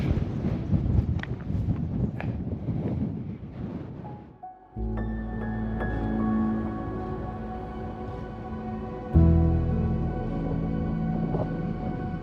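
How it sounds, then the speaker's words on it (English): Strong wind on a fell in the Northern Fells near Keswick, at about 650 metres: loud buffeting gusts hit the microphone at first, then give way to a sustained droning, whistling tone with sudden shifts. "It's very, very windy."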